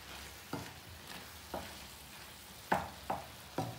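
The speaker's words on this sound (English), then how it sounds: "Give that a little stir." Bolognese sauce stirred in a pan, a soft low simmer broken by several distinct spoon scrapes and thuds at irregular intervals, no talking.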